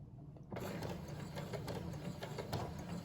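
A sewing machine stitches a cloth face covering: after a short quiet start, the motor whirs up into a continuous, even, rapid mechanical chatter that carries on close by.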